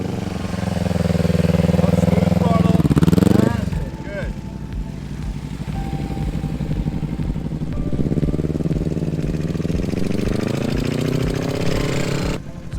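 A motorcycle engine runs at low speed during slow turns in a parking lot, holding a steady mid-pitched drone that swells briefly as the throttle opens and then settles, while a nearby instructor speaks over it.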